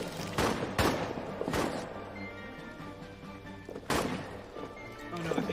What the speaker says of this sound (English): Our own artillery is shooting at us